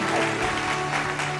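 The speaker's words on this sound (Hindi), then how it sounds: "जोरदार ताली।" A studio audience gives a loud, steady round of applause to welcome a guest onto a television stage, with a dense wash of clapping that holds evenly from start to finish.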